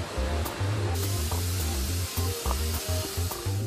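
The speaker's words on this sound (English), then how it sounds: "It's loaded into a laser cutter that slices through the steel like a hot knife through butter." Steel sheet for wood-burning stoves passes through a laser cutter in a factory, giving a loud hissing spray with repeated pulsing low hums and short bursts in a regular rhythm.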